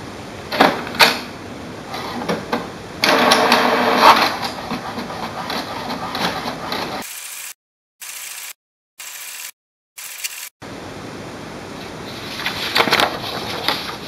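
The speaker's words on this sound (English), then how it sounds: "So this is the printout from your HP DeskJet 2700 series printer." An HP DeskJet 2700 series inkjet printer printing a page: mechanical whirring and clicking of the carriage and paper feed, with a stretch of stuttering on-off motor bursts in the middle before steady feeding resumes.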